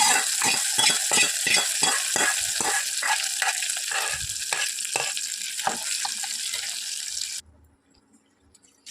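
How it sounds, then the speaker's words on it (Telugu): Hot tempering is poured into a tomato and brinjal dal, giving a burst of loud crackling sizzle with rapid pops and stirring that fades and then cuts off abruptly into near quiet. "ఇప్పుడు ఈ పోపుని పక్కలో వేస్తాము."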